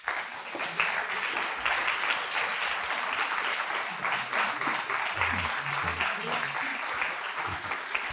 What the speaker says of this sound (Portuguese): Uma salva de palmas, por favor, para Patrícia Reis